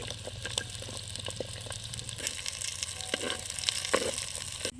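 Onions and white garlic frying in a pan in a village kitchen, a steady close sizzle with crackles, scrapes and stirring knocks, plus a low hum in the background.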